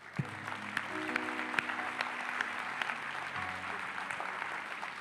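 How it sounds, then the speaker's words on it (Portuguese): A church congregation applauds at a Sunday service, a steady, fairly faint wash of clapping with a few sharper claps standing out, and a low sustained tone, likely an instrument, underneath. "Vamos dar um aplauso a Jesus."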